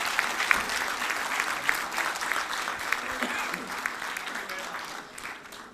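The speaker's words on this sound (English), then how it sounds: "Big round of applause." Sustained applause from a conference audience at a quantum physics and consciousness event, a dense steady patter of many hands filling the room for several seconds before tapering slightly.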